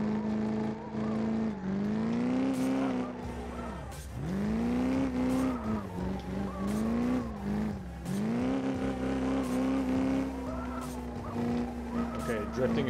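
A car drifting in the Drift Zone video game, a steady loud engine drone that rises and dips with revs, with squealing tires layered over it and sweeping through the slides for the whole stretch.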